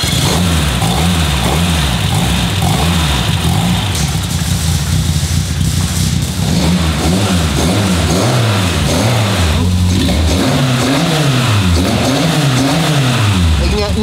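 A car engine revs hard and steadily on a dynamometer near the microphone, its pitch rising and falling in repeated sweeps over a constant loud roar.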